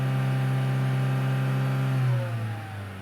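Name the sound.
Chevrolet Cruze engine revving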